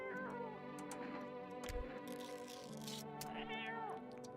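Faint cat meows repeat through a quiet game scene, several short tonal cries with a brief thump in the middle.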